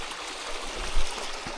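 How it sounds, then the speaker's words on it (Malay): Mountain stream water flowing steadily at a trail water point during a hike up Gunung Korbu, a continuous broadband rush with a slight swell near the middle, fairly close, no voices. "Air mengalir sini."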